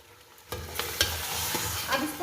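Garlic ginger paste is stirred into beef frying in a pot for korma, about two kilograms of meat: after a quiet start, a loud sizzle erupts with scraping spoon strokes over continuous frying, close up.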